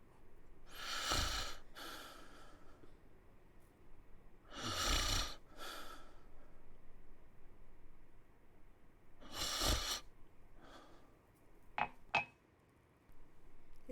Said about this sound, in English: His snores are so cute.